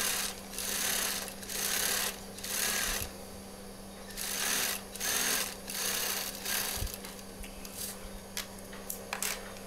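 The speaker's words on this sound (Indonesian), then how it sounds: "saya akan buat 2 jahitan ya" A sewing machine stitching a koko kurta shirt, rapid mechanical whirring in several separate runs of roughly a second each with brief pauses, then lighter clicks and handling noises, close and fairly loud.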